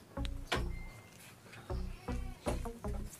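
Full-blood male South African meat goat bleating close by, a series of about six short, loud, nasal calls in quick succession with brief pauses between them, heard alone.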